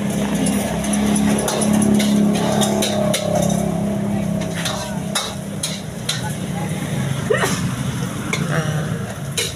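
Continuous sizzling and frying of fried rice (nasi goreng) with repeated scraping and clanking of a spatula against a wok, close and busy, with faint voices in the background.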